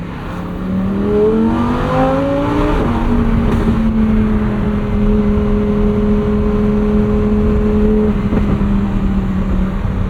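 A 2022 Lamborghini Huracán STO V10 revs loud and close, pitch sweeping upward, dropping, then holding a steady high drone before easing off near the end, with no talking.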